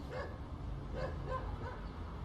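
A few faint, quiet dog barks in quick succession over low background noise, sounding somewhat distant.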